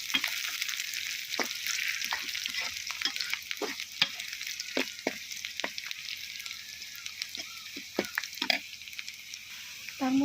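Onions sizzle steadily in a pan with fenugreek seeds and whole peeled garlic, while a utensil stirs and scrapes in frequent sharp taps over the continuous frying hiss.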